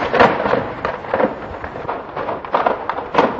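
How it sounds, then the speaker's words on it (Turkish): A series of repeated explosions booms from a military ammunition depot, with about six irregular heavy blasts and crackling bursts over a few seconds. "askeri mühimmat deposunda henüz bilinmeyen bir nedenle patlama meydana geldi"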